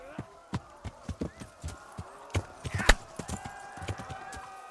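Rhythmic hoofbeats of a horse running at a canter in Kingdom Come: Deliverance, clip-clopping steadily up close, with a faint tonal game-like background hum.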